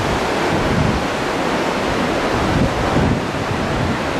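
Waterfall spray near falls in Jasper National Park, heard as a steady, loud, broadband rush of falling water mixed with wind buffeting the microphone, with no voices.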